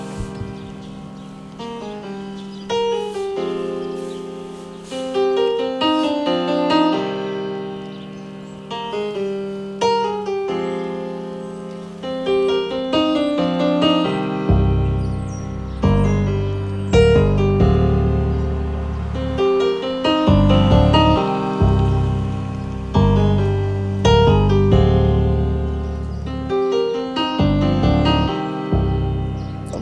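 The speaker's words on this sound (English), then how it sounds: "Now we about to listen to some beats made by my little cousin right here" Hip hop beats play back from a USB stick, loud and steady, starting sparse and melodic and then kicking in with heavy bass and punchy drums about halfway through.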